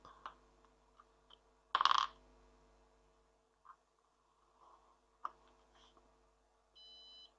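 A small buzzer on an Arduino prototype gives short electronic beeps, one louder burst and several faint chirps spaced irregularly, ending in a steady high tone, with no speech.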